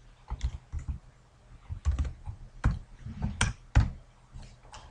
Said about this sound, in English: If I can type properly.